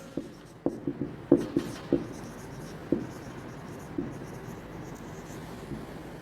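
Chalk or marker taps and scratches on a board during an accounting lesson, with sharp strokes clustered early and then sparser, over a quiet room background.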